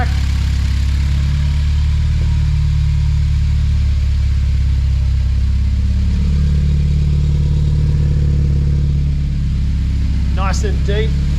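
Deep exhaust note of an idling turbocharged car heard from the rear, a steady low rumble close to the tailpipe, with a brief higher-pitched chirp near the end.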